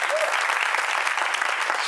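A studio audience at a French-language talk show claps in a dense, steady burst of applause that fills the whole moment at an even, fairly loud level.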